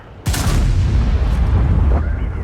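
A single heavy cannon blast from an SU-152 in a tank game, with a sharp onset, followed by a deep rumbling boom that lingers and fades slowly.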